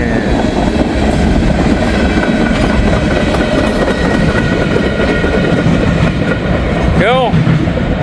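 Tail end of a huge freight train passing close by, a loud steady rumble and clatter of wagons with a brief squealing wheel sound near the end.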